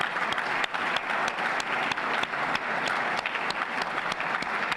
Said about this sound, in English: Please join me in a round of applause to thank these.